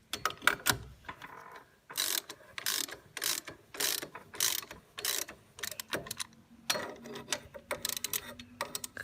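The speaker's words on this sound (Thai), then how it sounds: "นี่นะเราก็ใส่เลย ขันน็อตเลย" Bolts are tightened on a new exhaust pipe with a ratchet, giving repeated bursts of quick metallic clicking in a steady on-off rhythm, close and fairly quiet, with no talk.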